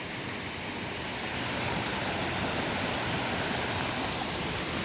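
Creek water rushing beside a mountain trail through forest, a steady, full broadband flow that holds constant and close throughout, with no voices.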